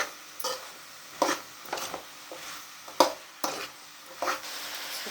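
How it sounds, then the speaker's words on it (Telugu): Ridge gourd curry being stirred in oil in a pan, with a spoon scraping and knocking against the pan in irregular bursts over a faint steady sizzle, close and fairly quiet. "బీరకాయ వేసి దాన్ని బాగా నీట్గా ఇలా కలిపేసుకోవాలి."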